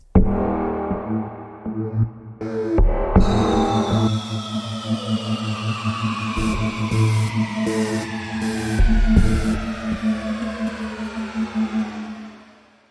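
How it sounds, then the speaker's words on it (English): Synthesized sound effects from UVI Synth Anthology 4 open the piece: a sustained tone, a bright descending sweep, and pulsing high-pitched blips over a low droning bed. "we end up with these wonderful little FXs to sort of introduce the track"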